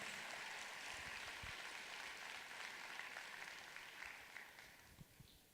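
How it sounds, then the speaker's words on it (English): Audience applause for the company Forever, a steady wash of clapping from a crowd that holds for several seconds and slowly thins toward the end, fairly quiet and with no voices over it. "So give them a fantastic applause"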